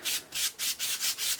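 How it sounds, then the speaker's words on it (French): A pastry brush sweeps excess flour off rolled puff pastry dough in quick back-and-forth strokes, a soft close rhythmic swishing of about six brisk passes. "je récupère le pinceau et j'enlève l'excédent de farine"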